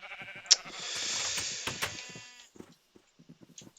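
Sheep bleats in a farming video game, a sharp cry near the start over a sustained bright bleating tone, followed by scattered quieter clicks and short calls after it fades.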